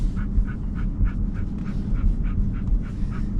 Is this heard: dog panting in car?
yes